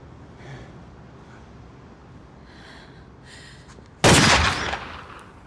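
A single loud gunshot in a dramatic TV scene from Supernatural, a sharp burst following quiet breathing and faint murmurs, then a short decaying tail.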